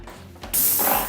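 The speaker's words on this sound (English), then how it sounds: "The spray gun should be triggered by turning it on and off with each stroke." A Wagner Control 150M paint sprayer bursts into a loud, steady hiss of spraying paint after a brief quiet start, the spray continuing evenly to the end.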